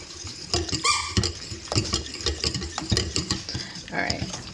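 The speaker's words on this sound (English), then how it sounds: "I am going to go ahead and mix this together" Sourdough baguette ingredients mixed by hand in a bowl, with busy irregular clinks, scrapes and stirring knocks, close and moderately loud, steady throughout.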